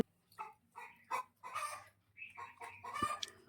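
Country chickens clucking in short bursts at a home where a chicken dish is being cooked and served on banana leaves; several separate calls, fairly close, with no talk over them.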